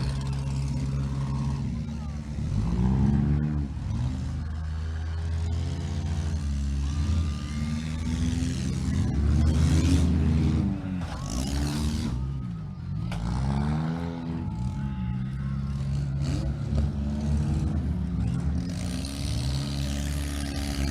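Race car engines at the Chautauqua County Fair track during qualifying night rev and drone loudly as cars pass with swelling and fading sweeps, alongside a commentator talking throughout.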